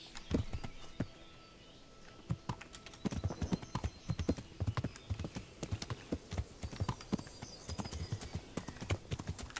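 Horse hooves clip-clop in Kingdom Come: Deliverance in a steady, repeated rhythm of sharp knocks, fairly close, with faint ambient noise in between.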